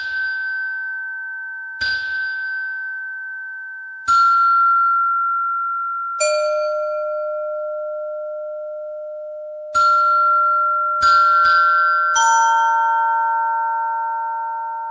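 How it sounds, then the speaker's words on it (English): Sonified brightest stars rendered as a sequence of bell-like tones, star color mapped to pitch and sky position to stereo placement; about eight bright dings struck at irregular intervals, each ringing on and layering with the others, with no voice. "sonifying the positions and colors of the brightest stars in the sky, mapping color to pitch and position to stereo spatialization"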